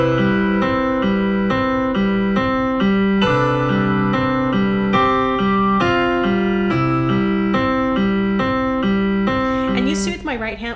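Piano playing a steady repeating left-hand accompaniment pattern with right-hand chords layered on top, sustained and fairly loud throughout, with no talking.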